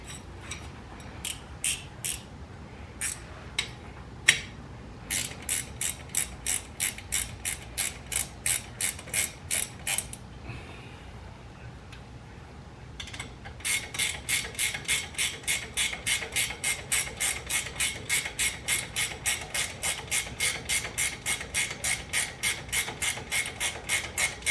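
A ratchet wrench works on the brake calipers, pads and rotors of a 2004–2015 Nissan Armada/Titan, clicking in close, crisp bursts of rapid pawl ticks separated by brief pauses.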